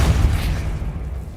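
A Depulso force spell cast in the Hogwarts Legacy video game gives a loud, deep booming burst that rolls and rumbles steadily through the whole moment, with no voices over it.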